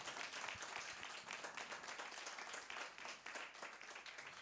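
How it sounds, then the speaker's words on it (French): A church congregation claps and cheers in acclaim for Jesus Christ, brisk dense applause with scattered sharp claps, moderately distant and continuous throughout. "Est-ce qu'on peut acclamer pour notre Seigneur Jésus-Christ?"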